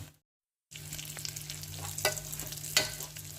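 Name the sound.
rice and lentils being fried and stirred for khichuri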